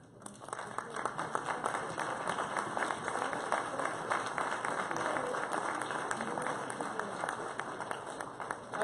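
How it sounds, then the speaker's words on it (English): Sustained applause from an audience at a corporate annual chairman's cocktail reception, a dense, even patter of clapping that continues for about nine seconds at moderate volume. "give them a hearty round of applause"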